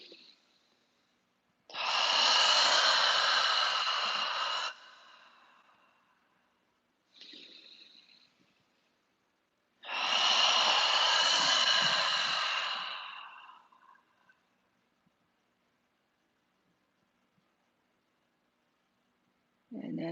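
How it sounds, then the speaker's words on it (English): Two long, airy mouth exhales form cleansing breaths, each lasting a few seconds and separated by a short inhale. The breathing is close and steady in an otherwise quiet room. "maybe take a few cleansing breaths with the mouth exhale"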